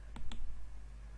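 Two quick, crisp clicks of computer keyboard keys being pressed close by, a Windows-key-plus-R shortcut, over a low steady hum, with no voices.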